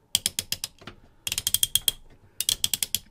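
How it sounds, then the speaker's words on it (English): The ratchet joint on an Optimus Prime action figure clicks in three quick bursts of crisp, evenly spaced clicks, close and clear, with short pauses between the bursts. "they've added a really strong ratchet here, and it's one of the best ratchets on the whole figure"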